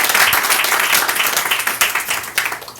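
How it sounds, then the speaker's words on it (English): Audience applause at a poetry and spoken-word evening, a dense steady wash of many hands clapping close by, holding level for about three seconds with a few sharper individual claps near the end. "Round of applause."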